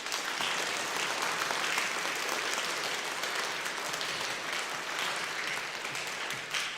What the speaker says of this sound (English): All right, let's clap for them.